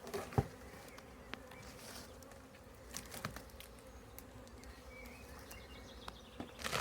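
Honeybees buzz around a disturbed hive being taken on by a beginner beekeeper, a constant low hum with occasional sharper passes of individual bees close by and faint clicks of handling, no speech.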